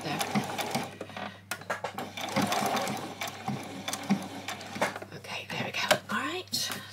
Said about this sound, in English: I'm just going to come here and do my back stitch right there at the end